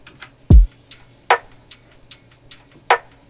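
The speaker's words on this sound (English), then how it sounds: "So the drums all together start to sound like this." A sparse, minimal drum pattern at 150 BPM, with one deep kick-like thump, crisp snare hits and light ticking hi-hats and tambourine in a steady, syncopated rhythm.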